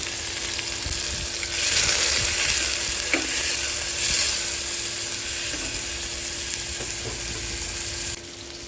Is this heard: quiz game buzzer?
no